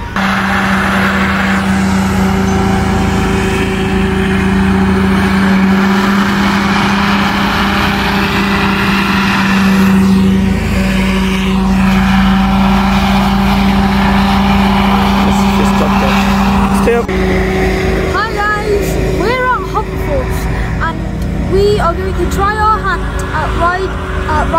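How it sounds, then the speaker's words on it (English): A hovercraft engine runs loud and steady throughout a ride, with a constant droning roar and rushing air, and voices talking over it. "Riding the hovercraft."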